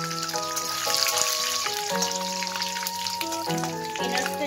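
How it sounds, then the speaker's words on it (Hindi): Peanuts frying in hot oil with mustard seeds in a kadhai, a soft steady sizzle with faint crackles, quiet and close, under faint background music. "अब मैं इसमें पीनट्स डाल देती हूँ।"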